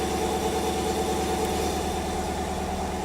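A Chevrolet Camaro fitted with a 2-step idles with a steady, loping low rumble, close and even throughout with no clear rev.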